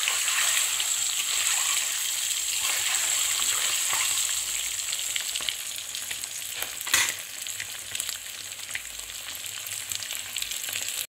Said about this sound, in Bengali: ডিমগুলোকে আমি কড়া করে ভাজবো না, জাস্ট হালকা করে একটু ভেজে নেব